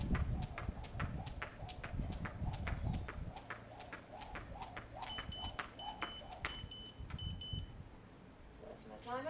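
A workout interval timer gives a series of short electronic beeps during an outdoor midday HIIT cardio session, mixed with rhythmic footfalls. The beeps cluster in the middle of the clip and sit moderately loud over the steady stepping.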